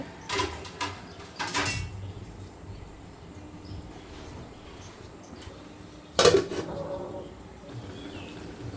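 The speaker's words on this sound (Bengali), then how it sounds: "ভালোভাবে আমি নেড়ে চেড়ে আমি ঢাকনা দিয়ে দিব" Mushroom curry stirred in a pot and then covered: a couple of close metallic scrapes and clanks at the start, a quiet stretch, then one sharper clatter as the lid goes on, with no talking.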